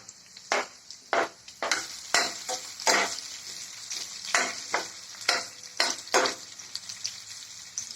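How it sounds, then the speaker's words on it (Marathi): Dried red chillies frying in hot oil for homemade chow mein, with a close, steady sizzle punctuated by frequent sharp crackles and stirring clacks in an uneven rhythm, loud and alone with no talk. "आता यात आपण शिळा मिरची टाकून घेऊ."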